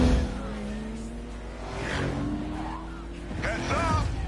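A racing car's engine revs and surges under a nitrous boost in Need for Speed Payback, with whooshing passes and rising engine tones, plus game sound effects layered over the run.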